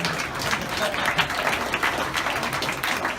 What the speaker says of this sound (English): I think we need to give a round of applause to Dan because that was a fantastic speech.